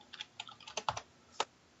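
Quick bursts of keystrokes on a computer keyboard during an Excel tutorial, a short close run of light clicks with a final firmer tap, no voice over them.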